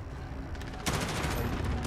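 A cluster strike in Call of Duty: Modern Warfare, heard as dense, continuous explosive rumble and crackle that swells sharply partway through and stays loud to the end.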